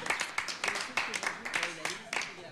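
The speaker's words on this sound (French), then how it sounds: "Ok, donc vous pouvez quand même lui applaudir." Small group clapping at a birthday, a quick, steady patter of close, fairly quiet claps with a voice over them.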